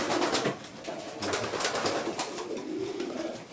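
Racing pigeons coo inside a pigeon loft, overlapping soft throaty calls repeating in a continuous, fairly close chorus with no talking over them.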